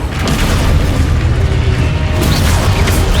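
A Confringo spell explosion from the Hogwarts Legacy video game, heard as a loud, close, rumbling blast that sustains with crackling debris and a brighter burst near the end.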